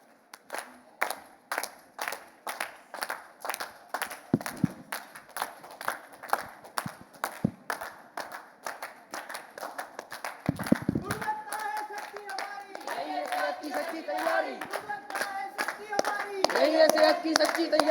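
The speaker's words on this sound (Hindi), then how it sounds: "अभी आपकी जो तालियां थी उसमें थोड़ी एनर्जी और चाहिए ताकि उनके अंदर और एनर्जी आए।" A street play audience applauds at a healthcare quality nukkad natak, with rhythmic rounds of clapping that build and grow denser toward the end, while voices speak over it.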